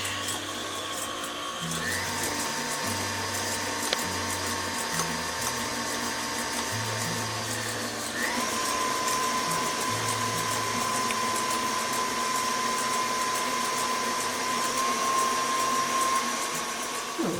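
Electric mixer creaming butter and sugar for lemon cookies, a loud continuous motor whine that shifts pitch as the speed changes, running close and steady throughout.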